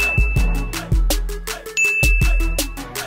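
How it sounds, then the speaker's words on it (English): A bright notification-bell ding rings out clearly over a rhythmic music beat, loud and close, with no talking. "Make sure you hit the notification bell as well"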